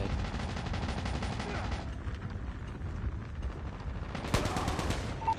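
Rapid automatic gunfire from a teammate in the mobile game Call of Duty Mobile, dense and continuous bursts with loud crackling shots, with a voice briefly heard over it.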